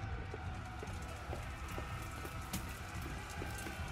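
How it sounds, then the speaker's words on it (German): Rain falling in the medieval game Kingdom Come: Deliverance during a castle battle, a faint, steady patter with soft scattered drops and no talk. "Es regnet."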